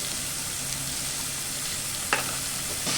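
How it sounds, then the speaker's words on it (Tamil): Masala and tomatoes sauté in a pan for a bitter gourd tamarind curry, a dense steady sizzle close by with a couple of sharp spoon scrapes near the end. "மசாலாலாம் வதங்கிச்சு, தக்காளி வதங்கிச்சு"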